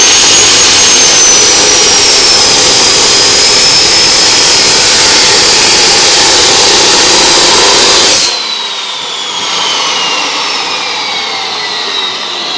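A cut-off machine grinds through metal for about eight seconds, loud and close with a steady high whine that falls in pitch, then cuts out to a fading spin-down.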